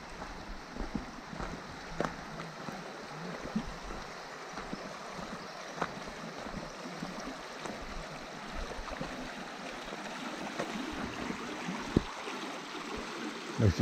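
Creek water flowing through a redwood forest, a soft steady burble with occasional small splashes and light clicks, faint and without voices.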